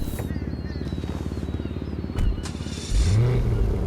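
The XA21 supercar engine in GTA Online hums with a steady pulsing drone, then rises into a louder, rising rev and growl over the last second.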